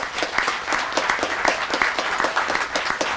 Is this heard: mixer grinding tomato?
no